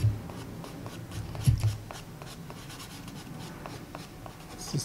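Pastel pencils scratch across paper while drawing an eagle, a close, soft, dry rasp of repeated short strokes with a few firmer taps along the way.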